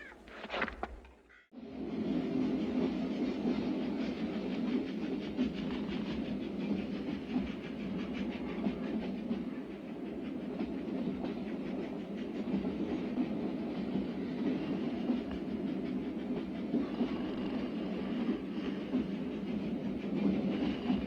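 A train rumbles steadily along the rails with a continuous low clatter and hiss, after a brief sharper sound at the very start.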